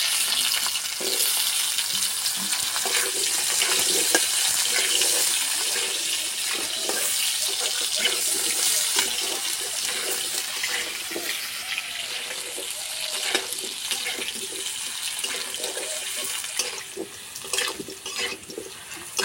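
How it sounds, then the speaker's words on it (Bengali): Potatoes fry in oil in a pan with a dense, continuous sizzle that stays loud and close the whole time, with occasional stirring scrapes and no voices. "আলু ভাজা হয়ে গেছে, বেটে রাখা মশলা দিয়ে দেবো।"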